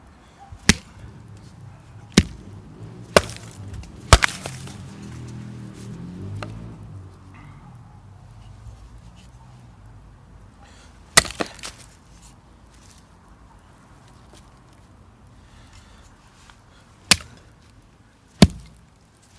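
Wood being split with a Japanese nata hatchet, heard as sharp, loud, separate chopping cracks spaced a few seconds apart, with quieter rustling and handling noise between strikes and no talking.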